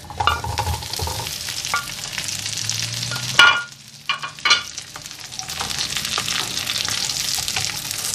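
Small potatoes sauté in hot butter, a loud, dense sizzle churned by stirring, a brief clatter and a short lull midway before the frying hiss builds back steadily; nobody talks.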